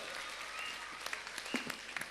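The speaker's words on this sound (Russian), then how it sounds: "Ваши бурные аплодисменты, друзья, нашим номинантам" A concert audience applauds the nominees at a reporting concert, a faint, distant patter of clapping with a few sharper individual claps standing out near the end.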